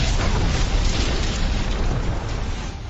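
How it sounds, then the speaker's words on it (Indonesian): A trap explodes with a loud, sustained roar that fills the clip, dense and rumbling, slowly easing off toward the end. "kapten menginjak perangkap musuh dan meledak di depan Poirot."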